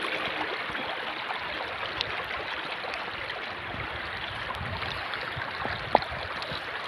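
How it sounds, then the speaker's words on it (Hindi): River water rushes steadily over a submerged crossing in a forested stretch of the Narmada in Dindori district, a continuous broadband wash with no talk and only a few faint clicks. "हालांकि ये है मगर फिर भी पानी इसके ऊपर से बह रहा है"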